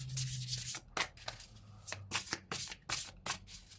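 Oracle cards shuffled by hand for a French spiritual guidance reading: close, crisp papery riffling in repeated quick strokes with short pauses, over a faint low hum at the start.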